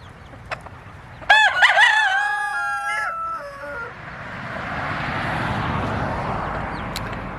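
Roosters on a farm crow loudly and close by, a long strained cock-a-doodle-doo with overlapping calls, followed by softer clucking and a broad rustling background noise.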